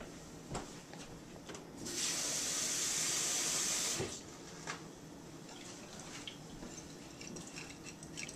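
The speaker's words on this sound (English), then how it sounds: "I need to add about a cup of water to it." Water poured from a tap into a thick tahini sauce, a steady bright hissing stream lasting about two seconds in the middle, with quieter kitchen handling before and after.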